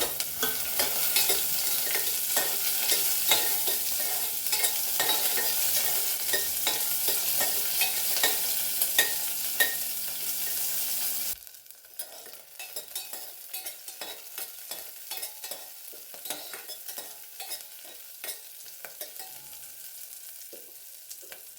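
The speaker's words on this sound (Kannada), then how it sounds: "ಕಟ್ ಮಾಡಿರುವ ಈರುಳ್ಳಿಯನ್ನು ಹಾಕಿಕೊಳ್ಳೋಣ ಈರುಳ್ಳಿ ಕೂಡ ಚೆನ್ನಾಗಿ ಬಾಡಲಿ" Chopped onions with spices frying and being stirred in a pan for a Sunday menthe (fenugreek) pulao, a steady close sizzle with scraping stir strokes that quiets partway through to sparser spatula clicks.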